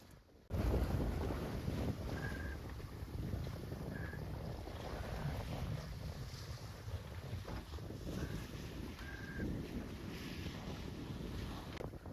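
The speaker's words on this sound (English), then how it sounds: "But the wind is kind of keeping up still a bit." Wind over a sailboat under way at dusk: constant roaring wind and microphone buffeting with rushing water along the hull, broken by a few faint high chirps from rigging or fittings, no voices.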